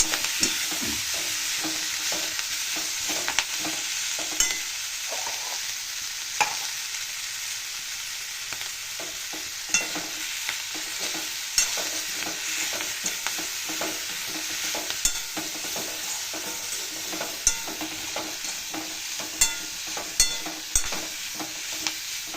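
Spinach, green chilli and garlic fry in oil while being stirred, a steady bright sizzle running throughout with frequent scraping clicks of the spoon against the pan, close and alone.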